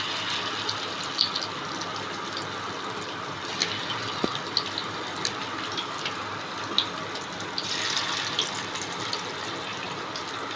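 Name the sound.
coated fish frying in hot oil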